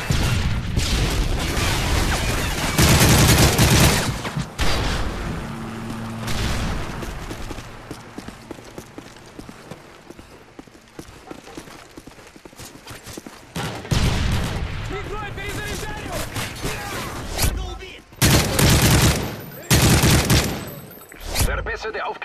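Artillery strikes and gunfire in Call of Duty MW3 multiplayer on the map Fallen: bursts of rapid shots and heavy booming impacts come in clusters, loud and close, with quieter stretches between volleys.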